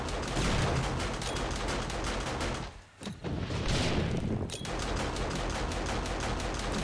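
Rapid bursts of gunfire crackle almost nonstop in the video game 7 Days to Die Darkness Falls mod during a blood moon, punctuated by booming explosions, with a brief lull in the middle before the shooting resumes.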